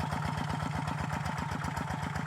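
A tractor engine runs while plowing a field, giving a fast, steady, thumping chug with a clattering edge that holds an even rhythm throughout.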